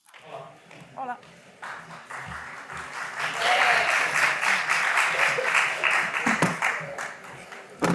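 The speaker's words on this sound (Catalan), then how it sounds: "Que bé que m'aplaudiu abans de començar" Audience applause for a speaker taking the stage at a Barcelona theatre season presentation, starting as scattered claps among voices and building into a steady, full round of clapping from a seated crowd.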